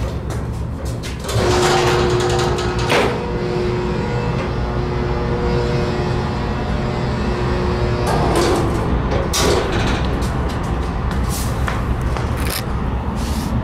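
A Salem traction winding drum freight elevator running, with a loud, continuous mechanical drone and hum, a steady tone partway through, and clanks and knocks as it travels and levels at the floor.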